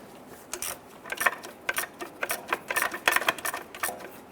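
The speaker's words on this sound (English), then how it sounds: "I want to go ahead and snug down our two 10mm bolts for our heat shield here." A ratchet snugging down two 10mm heat shield bolts on a 2005-2010 Chrysler 300 during exhaust manifold gasket work, with quick clicking bursts of varying pace, close up and without talk.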